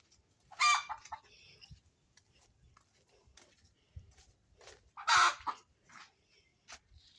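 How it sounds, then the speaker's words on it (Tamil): A rescued chicken, earlier bitten by a dog, gives two loud bursts of clucking with softer scattered clucks and rustles between them, close by and with no one speaking. "இதுதான் அந்த கோழி"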